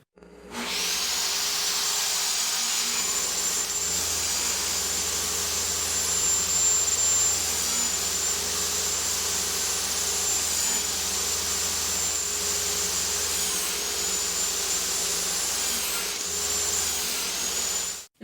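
Freshly cut fence picket pieces for a woodworking planter box get their edges dusted off under a loud, continuous roaring hiss and whine that runs unbroken for about eighteen seconds, with no talking.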